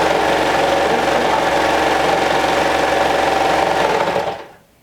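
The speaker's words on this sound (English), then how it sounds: "And then stitch all around by stretching the cuff to match the arm opening" A sewing machine runs steadily, stitching a stretched cuff onto a shirt sleeve, with a continuous loud whirring hum that stops abruptly near the end.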